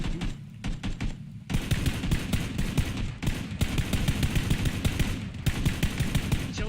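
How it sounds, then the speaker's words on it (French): Dense, rapid bursts of gunfire in the video game PUBG crackle almost nonstop, loud and close, with brief pauses between volleys. "Il y a d'autres coups de feu"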